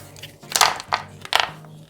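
Ice cubes for a homemade mojito drop into a glass with lime pieces, several separate crisp clinks and rattles in a loose rhythm, close and fairly loud, with quiet gaps between.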